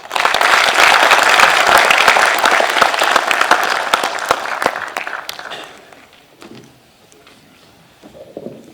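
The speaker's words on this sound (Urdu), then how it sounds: "خواتین و حضرات، بھرپور تالیوں میں استقبال کیجیے محترم رانا عبدالباقی صاحب" Loud, dense applause from a forum audience welcoming a speaker to the stage, many hands clapping strongly for about five seconds before dying away into quiet room sounds and faint shuffling.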